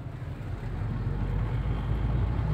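2006 Toyota Avanza accelerating from low speed, a steady low engine drone that swells slightly as it pulls, heard from inside the car with road and wind rumble.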